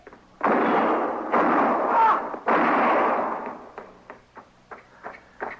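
Shootout gunfire in an old Western: three loud, sustained gun blasts in quick succession, trailed by a run of fainter, clipped shots and clicks fading out.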